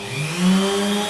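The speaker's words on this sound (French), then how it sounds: "si je veux mettre en marche la perceuse, je clique sur la commande 1." An electric drill switched on by a CAN bus command whirs up with a steady motor hum that swells slightly midway, then holds constant and fairly loud with no voices.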